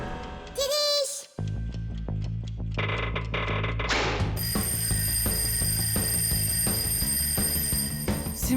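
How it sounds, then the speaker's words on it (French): A cartoon alarm clock rings in a continuous, bright metallic trill that starts about four seconds in and keeps going loudly to the end, following a few mechanical clanks and bursts of animated sound effects. "je crois que j'entends mon réveil sonner"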